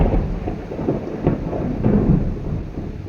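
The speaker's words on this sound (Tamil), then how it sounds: "இடி எப்படி இடிக்குது." Low thunder rumbles through a rainstorm, a steady heavy wash of rain with deeper rolling swells rising and fading across the stretch.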